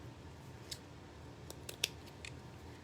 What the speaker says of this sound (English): Careful with the scissors